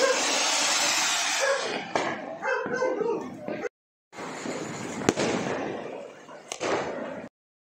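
Loud crackling bursts of Diwali firecrackers, hissing and popping continuously with sharp bangs, cut by brief silences, and voices heard faintly beneath.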